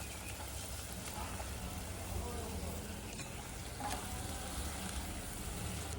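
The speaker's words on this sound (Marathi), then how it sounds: "त्याला आपण चांगलं परतून घ्यायचं." Dry masala is sautéed in a pan for stuffed brinjal curry, making a continuous low sizzle with soft scraping of stirring over several seconds, fairly quiet and even.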